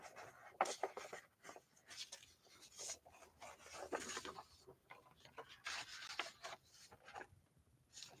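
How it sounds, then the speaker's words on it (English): Sheets of paper are swapped and shuffled on a desk, giving soft, faint rustling and rubbing scrapes in irregular bursts close by, with no talk. "Give me a second to switch paper."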